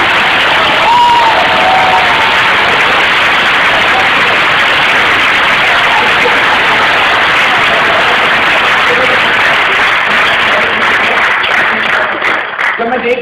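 An auditorium audience at a motivational speaker's talk applauds loudly and steadily throughout, a dense, unbroken wash of clapping like heavy rain.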